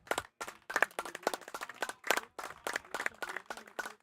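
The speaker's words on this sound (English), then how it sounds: "As he gets applause from his Australian teammates." Several hands clap in uneven bursts at an over-60s cricket match, a small scattered round of applause heard fairly close with brief pauses between claps.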